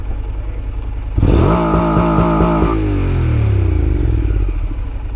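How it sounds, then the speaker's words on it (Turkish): A motorcycle with a Yoshimura exhaust blares loudly as the engine is revved hard, a sharp roaring burst that rises then drops back to a lower rumbling idle. "egzoz iyi bağırıyor"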